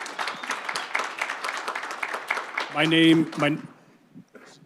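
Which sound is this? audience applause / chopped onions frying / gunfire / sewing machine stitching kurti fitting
audience applause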